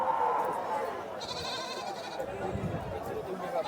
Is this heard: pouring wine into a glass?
no